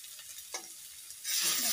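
Potatoes and tomatoes being stirred and fried in masala for pabda fish curry, a quiet scrape of stirring followed by a louder rising sizzle toward the end.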